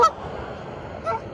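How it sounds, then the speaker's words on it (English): A goose honks loudly at close range outdoors along a walk home, two short harsh honks about a second apart over a steady background hiss. "we're walking home and we have this goose hissing at us"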